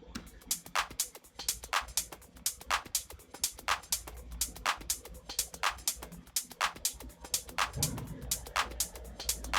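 A minimal house groove built in Ableton 12, with tight, evenly spaced hi-hat-like ticks over a low, steady kick and a faint layer of background noise. It runs continuously at moderate level with no voices.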